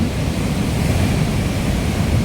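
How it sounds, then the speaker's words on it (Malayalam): Surf breaking and washing onto the shore at Edava beach near Varkala, a steady broadband rush with low rumbling swells, continuous and fairly loud with some wind on the microphone. "ഇങ്ങനെ വരുന്ന തിരയടിച്ച് വരുന്ന വെള്ളമായിരിക്കും ഈ വരുന്നത്"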